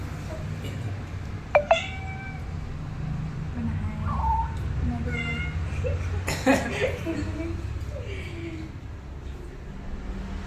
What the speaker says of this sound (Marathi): हे आमचे मांजर आहे आणि ह्या मांजरीने हे पिल्लू दिलेले आहे